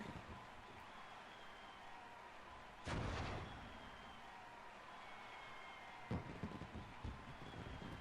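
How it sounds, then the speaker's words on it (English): Fireworks and confetti bursting in The Great Ace Attorney courtroom scene, a faint backdrop of crackle broken by one loud burst and a later cluster of sharper pops. "God damn with this damn confetti and fireworks again."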